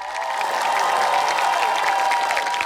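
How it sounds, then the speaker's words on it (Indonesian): Studio audience at an Indonesian comedy news show clapping steadily and densely for a few seconds, a continuous wash of many hands with a few light cheers mixed in. "Tepuk tangan dong."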